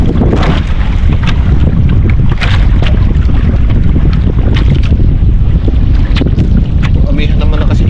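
Strong northeast monsoon wind buffets a small boat at sea, a loud, steady roar with microphone gusts and splashing water throughout, and a voice speaks intermittently beneath it.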